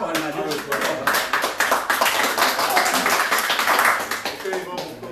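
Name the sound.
audience applause, clapping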